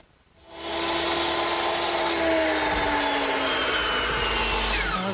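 A power saw spins up and cuts through the top of a 2x4 framing standard for a canopy, a sharp whine rising within the first second into a loud, sustained buzzing cut that continues to the end.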